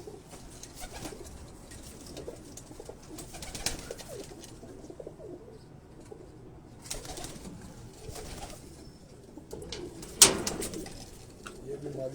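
Rooftop pigeons in Karachi cooing softly in low, rolling bursts against a quiet outdoor background, with someone talking intermittently and a brief sharp clatter near the end.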